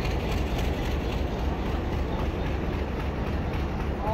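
Tezgam passenger train arriving at Rawalpindi railway station, heard as a steady, loud broadband rumble of rolling stock filling the whole stretch with no break.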